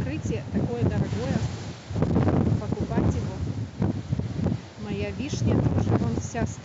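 Strong hurricane wind buffets the microphone outdoors in a garden, a loud rushing roar in gusts that rises and falls, while a person talks over it.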